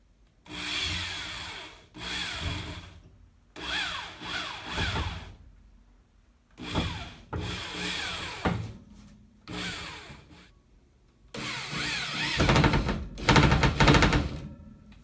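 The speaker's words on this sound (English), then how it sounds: "Now we're going to drill screws into that wood strip" A power drill whirs in several short bursts, rising and falling in pitch as screws bite into a wood strip, with brief quiet pauses between them.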